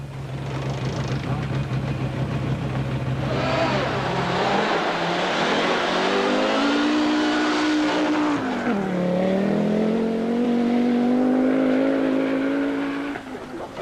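An Audi Quattro rally car's engine revs hard and accelerates on a Monte-Carlo Rally special stage, its pitch climbing, dipping and climbing again, loud and close with a hint of tyre noise.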